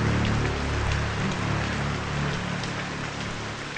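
Steady, dense rain pours down as a continuous loud hiss with no break, together with a faint low hum underneath, and no voices.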